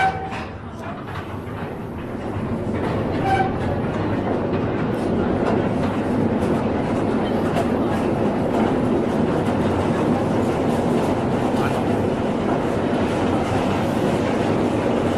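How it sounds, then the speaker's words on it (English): Troop-carrying train running inside a Maginot Line fort's underground tunnels, a steady loud rumble and rattling that builds over the first few seconds and then holds constant and close, with faint voices in the background. "We're on the actual train for troop carrying."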